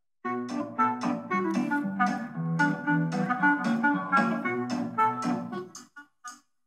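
Pop music playing through a small wireless Bluetooth speaker, thin and a bit tinny with light bass, steady beat and melody before cutting off abruptly.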